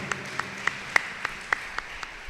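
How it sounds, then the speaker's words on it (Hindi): Light, steady applause from a church congregation at Sunday Mass: a handful of separate claps at a regular beat, soft and roomy, with no one talking. "इनके लिए तो बहुत ज्यादा ताली होनी चाहिए।"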